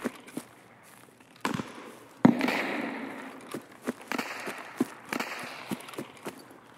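Scattered sharp gunshots in the video game Escape From Tarkov crack at uneven intervals, one loud close bang among fainter distant pops, over a low hiss of ambient noise.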